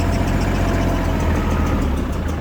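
Kubota GL25 Japanese mini tractor with its engine running close by, a loud, steady low rumble and chug throughout, no talk.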